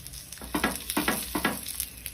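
A wheat flour vegetable snack shallow frying in a little oil in a pan, steady soft sizzle close by with several rhythmic bursts as it is pressed and turned, no voices.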